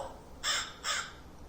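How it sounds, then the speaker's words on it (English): Two harsh crow caws, evenly spaced and fairly loud, played back from a children's animal sound book against quiet background hiss. "Crow."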